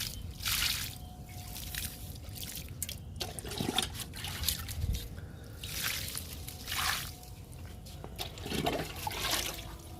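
Oats and kitchen-waste liquid fertilizer poured onto three okra plants in a garden, a soft trickling, dribbling splash of liquid onto soil and leaves that runs steadily with small drips and squishy pulses throughout.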